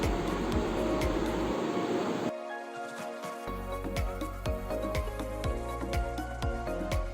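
Domestic sewing machine stitching along the folded edge of fabric for a puff sleeve, a steady rapid mechanical clatter running close and continuous, with a brief pause partway through before the stitching resumes.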